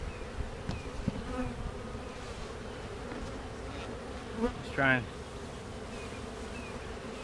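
Honey bees hum steadily around an open hive while hives are being combined and split, a faint continuous buzz with a few louder passes close by and a brief spoken phrase.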